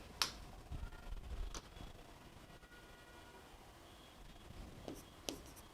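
Pen writing on paper during a Rajasthani folk music lesson, heard as faint scratchy strokes and scattered taps against a quiet, noisy background with no speech.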